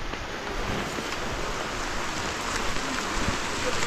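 Heavy rain pours steadily in a dense, even hiss on a rural farm, loud and continuous throughout with no letup.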